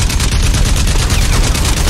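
Rapid automatic gunfire rattles continuously at close range in the video game Crysis Remastered, fired at an attacking enemy plane, a loud, dense stream of shots with no pauses.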